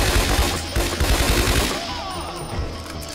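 Rapid automatic gunfire from a micro SMG in the video game Scarface: The World Is Yours, dense and loud, with continuous overlapping bursts that run through most of the short stretch.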